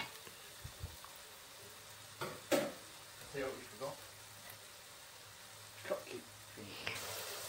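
A bakpao filling being sautéed in a pan until its liquid reduces: a low, steady sizzle broken by a few sharp scrapes and clinks of stirring, moderately close.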